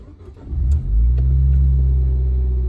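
From inside a Nissan Juke fitted with a Nismo exhaust, the engine and exhaust swell into a deep, steady droning rumble after a brief rev, loud and close with no talking.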